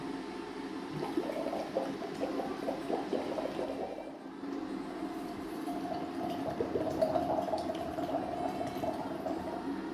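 Someone blows through a straw into a container full of water as a lung exercise, producing continuous bubbling and gurgling that rises and falls over about ten seconds, close and moderately loud.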